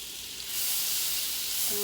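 Butter sizzles in a pan with finely chopped ginger root and orange zest, a loud, steady hiss that swells after the first half second and holds, with no talking.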